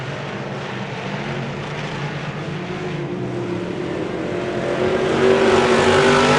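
Sportsman race cars roar around the Merrittville dirt track during a heat race, a dense, steady engine drone that swells louder toward the end as the pack draws closer, with no talk over it.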